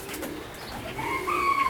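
Doves coo softly in a pigeon loft fitted with nest boxes, a steady low cooing with faint higher chirps close by and no talking.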